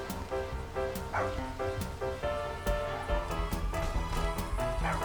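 A dog in the video game GTA 5 gives several short barks and yips with some whimpering, mixed over a bed of in-game background music and sounds.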